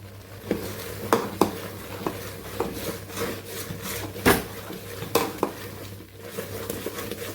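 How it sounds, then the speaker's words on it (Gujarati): Spoon stirring roasting flour in a pan while milk is added little by little for adadiya, giving soft scraping rubs and intermittent sharp taps against the pan, close and fairly quiet. "થોડું થોડું દૂધ ઉમેરતા જશું ને શેકતા જશું સતત આપણે હલાવતું રહેવાનું"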